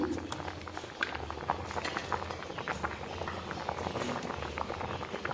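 Dal and vegetables boiling in a pot, giving a steady bubbling patter with small irregular pops that continue evenly for about five seconds.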